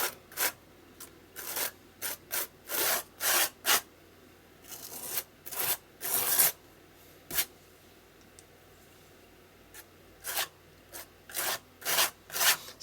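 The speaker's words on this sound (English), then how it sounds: "once I've put the paste down in a blob, I hold the spatula at around a 45-degree" A spatula spreading paste across a canvas in a mixed media piece, making a series of loud, rasping scraping strokes in regular bursts with short pauses, close up and alone.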